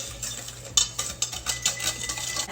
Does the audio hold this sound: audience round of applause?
no